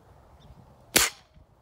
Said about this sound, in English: Okay, we're gonna shoot again. We're about 35 yards.